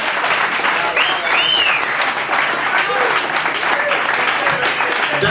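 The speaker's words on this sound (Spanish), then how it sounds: "Podéis aplaudir." An audience packed into an Irish pub in Madrid claps continuously, a loud, dense, steady wash of applause with faint crowd noise beneath.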